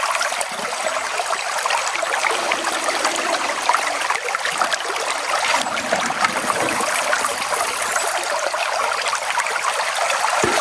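Water rushes steadily through a Dream Mat gold sluice set in a river, a constant bright splashing and trickling flow heard up close with no voices over it.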